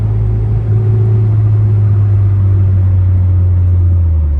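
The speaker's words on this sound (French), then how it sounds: "le moteur il chante vraiment, il est là pour chanter" A lightly modified Nissan S14 runs with a loud, steady engine drone and strong low rumble, its pitch holding near constant and then sagging slightly toward the end, heard close up without talk.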